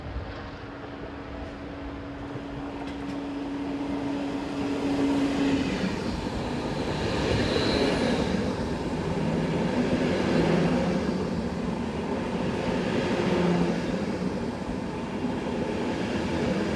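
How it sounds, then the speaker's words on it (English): A passenger train on Austria's Semmering Pass route, pushed by a locomotive at the rear, rumbles steadily past with a low sustained hum and rolling wheel noise that swells midway. "This train is operated at the rear by locomotive number"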